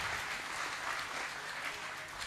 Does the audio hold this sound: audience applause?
yes